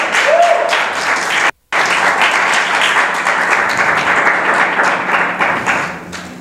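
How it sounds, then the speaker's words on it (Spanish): A church congregation breaks into loud, sustained applause, broken by one brief dropout early on, then continuing as a thick, even wash of clapping with scattered voices beneath. "Dale un aplauso al Señor."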